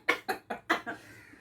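Five sharp coughs in quick succession, close and loud, fading into a trailing breathy rasp, set off by a spicy irritant mixture prepared for a sneezing challenge.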